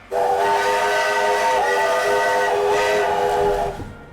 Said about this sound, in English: shout out to this train whistle for absolutely scaring the shit out of me